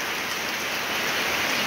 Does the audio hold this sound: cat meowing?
no